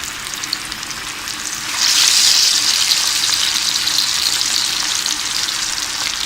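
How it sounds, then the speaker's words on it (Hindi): Pieces of fish fry in hot oil in a pan, a steady loud sizzle that swells as another piece goes in and keeps crackling without talk. "अब हम अपनी फ़िश को फ्राई करते हैं।"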